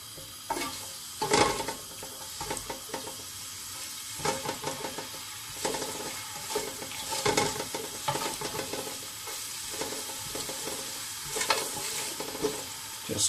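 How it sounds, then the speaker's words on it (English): Ginger garlic paste sautéing in a pan for vegetable biryani: a constant close sizzle with repeated scraping stirs and clinks of a spoon against the pan, no voices. "Just saute this a bit. Add the ginger garlic paste."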